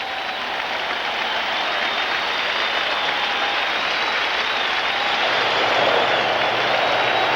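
A stadium crowd of over 40,000 at Shea Stadium applauds a young pitcher during a 1985 Phillies–Mets night baseball game, a steady, dense wash of clapping and cheering that holds loud and unbroken throughout.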